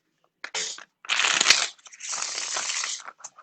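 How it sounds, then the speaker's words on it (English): Tarot cards shuffled in three close, crisp bursts of riffling and slapping, loud and near, separated by brief pauses with no talking. "One more shuffle."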